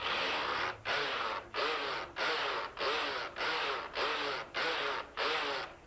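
A knitting machine carriage is pushed back and forth knitting rows of ribbing, making eight or nine even, rhythmic whooshing passes with brief gaps between strokes, close and clear.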